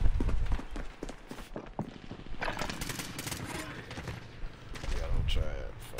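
Rapid video game gunfire from the shooter Warfare, dense bursts and single shots crackling near and loud over a busy mix, with a player's voice talking throughout.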